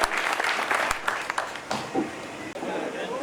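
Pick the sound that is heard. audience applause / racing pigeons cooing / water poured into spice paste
audience applause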